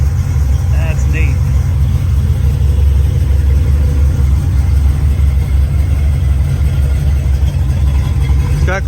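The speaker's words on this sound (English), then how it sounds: "It's got great sounding dual exhaust" A 1977 Chevrolet Bonanza short-bed Silverado sport truck with dual exhaust idles close by, a loud, steady low rumble throughout, with someone talking over it.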